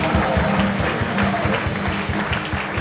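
Continuous clapping from a church congregation fills the space, steady and dense, with a faint voice or music underneath.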